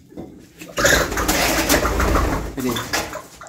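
Reeves pheasants crowd a cage while being caught, giving soft cooing calls and a burst of flapping, rustling movement that fills the middle of the clip, close and fairly loud.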